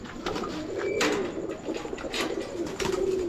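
Low, soft cooing of pigeons in a pigeon loft repeating several times, close by, over a noisy background with scattered clicks and rustling.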